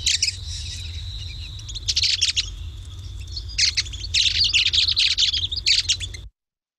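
Squeaky, high bird calls in rapid bursts, with a thin sustained whistle between them, over a low steady rumble of background noise.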